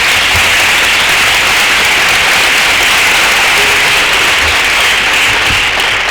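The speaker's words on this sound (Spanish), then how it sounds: "pido un fuerte aplauso para ella" An audience at a talk on equality and violence against women breaks into sustained, loud applause that fills the whole stretch with dense, steady clapping and no talk over it.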